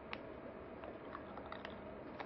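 Crunchy croutons being chewed up close, quiet repeated biting and crunching clicks in a soft, uneven rhythm with no talk.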